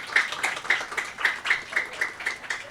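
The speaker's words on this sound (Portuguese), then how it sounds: "eu peço uma salva de palmas aqui" Applause at a seminar on planning and development, a steady run of claps in a quick, even rhythm, moderately distant and fairly soft, with no talking over it.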